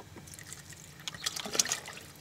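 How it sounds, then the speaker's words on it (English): Water trickles and pours into a cooking pot inside a camper van, a soft, close, steady stream that builds slightly toward the end with no talking over it. "So let's add a little bit of water."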